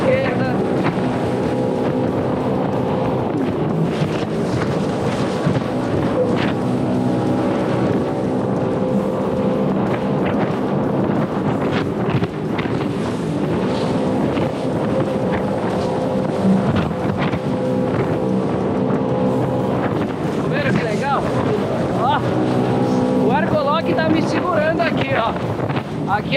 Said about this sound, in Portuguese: esporte ligado, vou fazer a aceleração aqui no máximo para vocês verem.